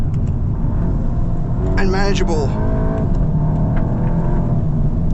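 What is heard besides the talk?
Volkswagen Golf GTI driving over a bumpy road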